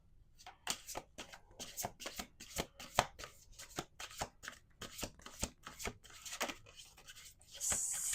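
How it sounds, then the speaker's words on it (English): Playing cards riffle and snap repeatedly in quick bursts, close and crisp, with no voices, building to a longer rustle at the end. "Let's do 2 more shuffles."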